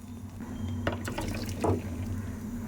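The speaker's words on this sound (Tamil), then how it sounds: "ஒரு கிளாஸ் வந்து வாட்டர் ஆட் பண்ணிக்கோங்க" Water poured from a glass into a cooking pot for cauliflower vada, a short splashing, trickling pour lasting a couple of seconds, close and moderately loud over a steady low kitchen hum.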